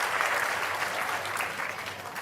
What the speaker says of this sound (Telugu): గట్టిగా చప్పట్లు కొట్టి అందరూ కూడా అభినందించండి